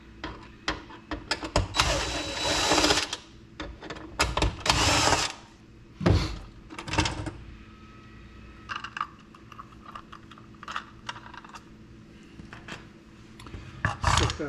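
An axle is worked loose from a four-wheel inground pool sweeper, with close plastic clicks, rattles and scraping bursts that come in irregular handling noises.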